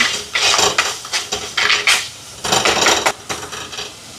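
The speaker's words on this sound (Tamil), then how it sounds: "தக்காளி சோஸ், இஞ்சி பூண்டு பேஸ்ட் எல்லாத்தையும் சேர்த்து கலந்துடுவோம்." Rhythmic scraping and clattering of a spoon stirring tomato sauce and ginger garlic paste in a clay pot over a wood stove, loud close strokes repeating roughly every half second with no talking.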